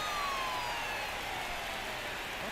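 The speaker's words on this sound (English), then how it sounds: "We are sounding the sirens" A siren sound effect wails steadily, its tone sliding slowly downward over a couple of seconds, fairly faint and alone with no talking.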